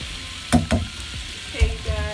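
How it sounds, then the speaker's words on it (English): Lean, seasoned pork chops frying in a pan on low heat, a soft sizzle broken by a few thumps and scrapes as the pieces are turned over, with faint background noise. "as you can see how I cook my lean pork chops, I cook them on 2, and then as you can see, I just keep turning them over"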